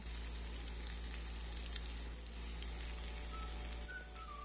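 Pork sizzles in a pan while being stirred with shrimp paste for pork binagoongan, a steady low frying hiss close by with faint scraping and no talk.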